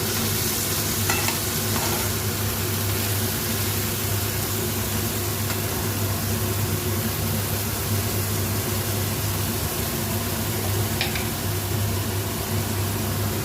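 Pointed gourd and onions frying in a pan for chicken Maggi, a dense, continuous sizzle with faint stirring, heard close and steady alongside a low mechanical hum, no speech.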